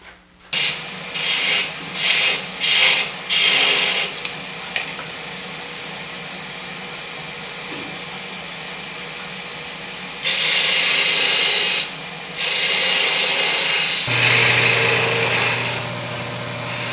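A small spindle gouge works the end of a wooden sea urchin ornament spinning on a lathe. Short rhythmic rasping cuts come first, then longer sustained scraping passes over the motor's steady hum, close and loud with no talk.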